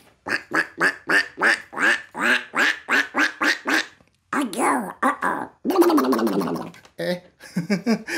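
A person mimics a duck with a rapid run of nasal quacks, then more drawn-out, throaty quacking sounds, all voiced close and alone without other noise.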